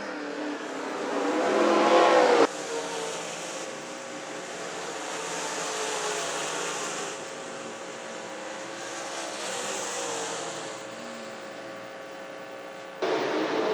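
Race cars lap the track at the 2019 Bedford fall festival race, with engines swelling and fading as they pass, a loud roar at the start, a hum in between and another rise near the end.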